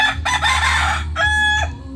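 A rooster crows loudly and close by, one long drawn-out call broken into bursts, with no talking around it.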